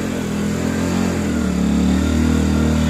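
A car engine in first gear pulls hard up a steep hill. It gives a loud, steady drone close by, and its pitch climbs as it labours and accelerates.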